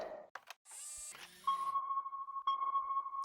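A sonar ping sounds as a steady, clear electronic tone that holds for about two seconds, with a brief restart midway. It is preceded by short clattery bursts and a rising whistle-like sweep.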